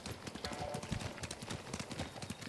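A horse's hooves clip-clop in the video game Ghost of Tsushima, a quick, steady trotting rhythm up close and fairly loud, with faint voices in the background.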